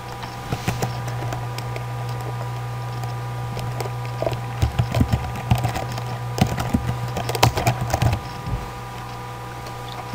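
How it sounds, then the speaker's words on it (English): Keys clatter on a computer keyboard in irregular bursts of typing, fairly close, over a constant low electrical hum. "you can go ahead and type your information and everything"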